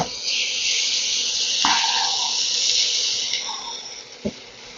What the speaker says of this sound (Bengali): একটু জল দিয়ে দিচ্ছি আমি